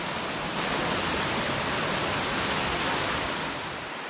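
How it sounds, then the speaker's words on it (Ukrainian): Dense, steady rushing of a Carpathian waterfall fills the air, a constant broadband roar that eases slightly toward the end. "постійний шум води, який чутно навіть на відстані, дуже схожий на шепіт"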